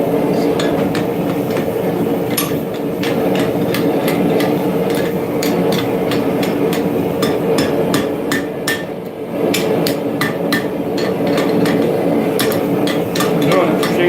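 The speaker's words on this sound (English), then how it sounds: "I'm doing it cheap way by knocking it out by a hammer." Sharp metallic hammer blows ring out in a steady rhythm as a railroad spike is knocked out during blacksmithing, loud and close over a constant background hum.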